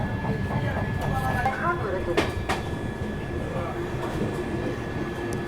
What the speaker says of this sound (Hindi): ट्रेन अपनी जो है टूंडला जंक्शन स्किप करने जा रही है